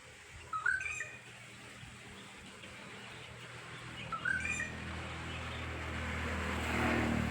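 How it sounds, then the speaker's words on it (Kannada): A bird sings from a coconut tree: two short bursts of bright chirping phrases, one near the start and one midway, over a steady low outdoor hum, with no voices. "ಇಲ್ಲೊಂದು ಪಕ್ಷಿ ಎಷ್ಟು ಚಂದ ಹಾಡು ಹೇಳ್ತಾ ಇದೆ,"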